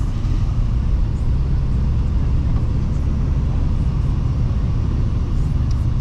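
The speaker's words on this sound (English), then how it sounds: "That's the fourth truck," A truck passing on a road, heard as a steady, loud low rumble of engine and tyres that fills the whole stretch without fading or any clear peak.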